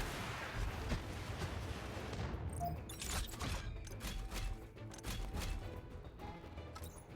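Mecha weapons fire at enemies in the Mecharashi video game, with repeated sharp mechanical shots and metallic clanks over a dense, steady game background.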